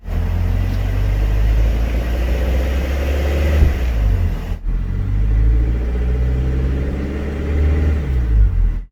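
The engine of a Hyundai Grandeur gives off a loud, steady low rumble with a rough, diesel-like clatter under acceleration near 2000 rpm, continuous and close, with a brief dip midway.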